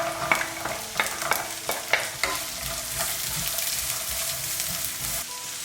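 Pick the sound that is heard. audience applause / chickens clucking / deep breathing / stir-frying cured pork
stir-frying cured pork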